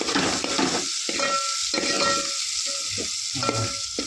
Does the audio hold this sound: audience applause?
no